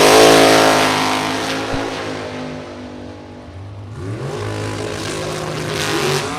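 A Chevrolet Corvette and a Pro Charged rear-engine dragster drag race, with loud, close engines revving and accelerating, the roar fading into a lull before a second engine surges and climbs in pitch.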